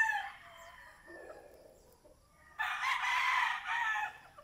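Hatch gamecock chickens crow in a breeding pen: one fainter crow at the start, then a loud, close, drawn-out cock-a-doodle-doo near the end, with soft farm ambience between.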